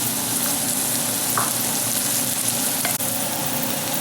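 Chopped zucchini or celery frying in a pan, a steady, close sizzle with faint stirring scrapes and a brief clatter near the end, no talking.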